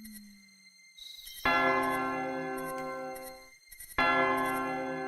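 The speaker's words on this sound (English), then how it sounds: "The church bell is tolling." A church bell in the King's Quest II remake tolls twice, each ringing strike loud and near with a long, shimmering decay before the next.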